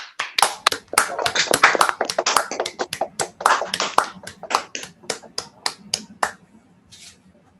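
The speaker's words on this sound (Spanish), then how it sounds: "Quiero pedir un fuerte aplauso para nuestro compañero y amigo querido que permanecerá en nuestra memoria eterna, Félix Huerta" Scattered claps in memory of a late colleague at a discussion event, a sparse, uneven run of distinct hand claps from a small group, close and crisp, dwindling to a few final claps.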